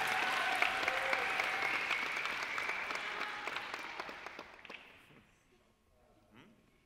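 A dance competition crowd claps and cheers loudly and steadily, with a few whoops, then the applause thins out and fades toward the end.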